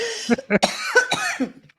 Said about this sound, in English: Coughing a lot.